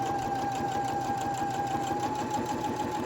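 A sewing machine stitches a fabric pocket at a 3.0 stitch length, running steadily and continuously at close range with an even mechanical whir and no pauses or talking.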